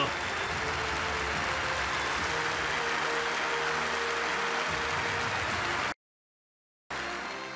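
Thunderous, sustained applause from a large assembly at a party plenary meeting, a dense continuous roar of clapping that cuts out abruptly and then resumes.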